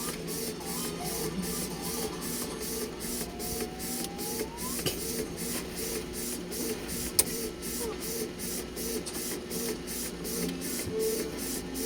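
Canon IP2770 inkjet printer running a print in good repair, a steady mechanical whir with regular rhythmic carriage passes and a brief click partway, close and continuous.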